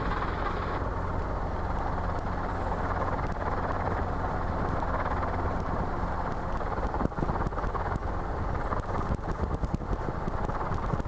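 A training helicopter hovers and air taxis, its engine and rotor roaring in a loud, continuous drone that stays close and steady throughout, with no voices heard.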